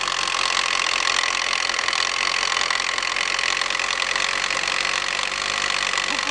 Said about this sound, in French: Ça y est, le moteur est reparti.